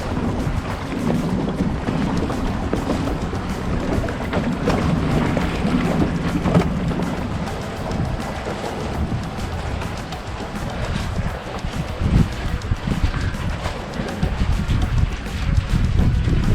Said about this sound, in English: The wind's blowing onto the dock at the moment